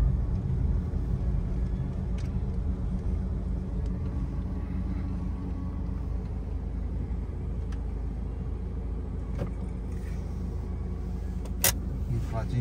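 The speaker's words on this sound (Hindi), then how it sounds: "तो हम यहाँ लगाते हैं अपनी गाड़ी।" A car being parked at a roadside spot in Haryana gives a steady, low engine rumble throughout, with a few faint clicks and knocks, and people talk over it.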